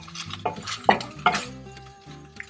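Chicken chow mein noodles being stirred with sauce in a pan, with several distinct scraping and clinking knocks of a utensil against the pan spaced over a couple of seconds, close up and with no talking.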